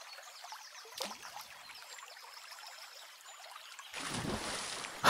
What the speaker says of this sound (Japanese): せせらぎの音がちょっと大きいかな？